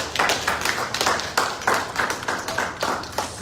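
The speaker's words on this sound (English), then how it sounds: "Can we clap for him?" A small audience claps at a business talk on real estate sales, a loose run of sharp hand claps with a rhythmic, uneven pulse, fairly close and moderately loud with no talk over it.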